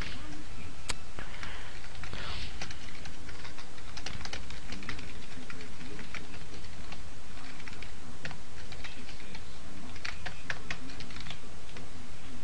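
Rapid typing on a computer keyboard while coding a Java GUI slider program, a busy patter of close key clicks running steadily throughout, with the odd louder keystroke and no speech.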